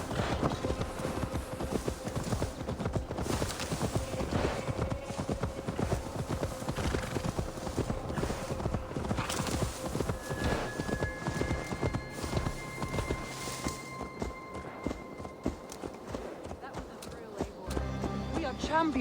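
Horse hooves clip-clop steadily through a video game scene, mixed under busy game sound and a talking voice, with a brief whinny-like touch amid the rhythmic footfalls.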